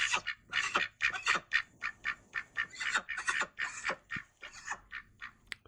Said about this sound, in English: let me give you a little sample of their full-grown quacking